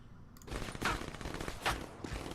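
Rapid gunfire from a Call of Duty match crackles in dense bursts, with two louder volleys standing out over continuous shooting.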